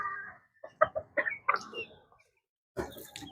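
A young white Leghorn chick suffering from a cold clucks in a string of short, close, nasal calls, pauses in silence, then lets out another brief burst.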